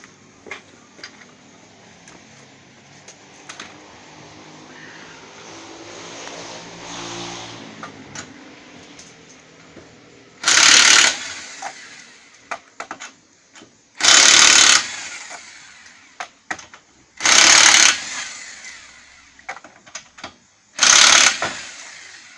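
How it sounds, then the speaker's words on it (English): Lug nuts and a tire coming off a Honda Civic during a front brake job: four loud, broadband bursts of about a second each, likely an impact wrench, stand out over a quieter background of rattling and handling noise. "We'll go over to the other side and go ahead and remove that tire."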